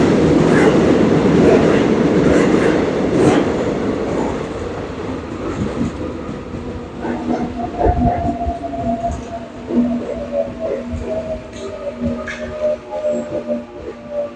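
A subway train pulls into a station, a loud broadband rumble at first that eases into a quieter hum with clattering wheel noise and tonal whine as it slows, with a Korean arrival announcement playing.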